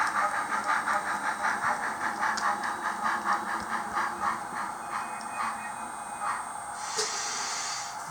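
A model railway locomotive on a Pacific East Coast layout pulls away with a steady rhythmic chuffing that repeats evenly, close and fairly loud, fading slightly as it goes, with a brief higher hiss near the end.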